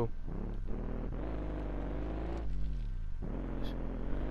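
A Mazda RX-7 engine idles and revs in a car-building video game, a steady low rumble with layered harmonics that dip and rise as the throttle changes, loud and close with no voices.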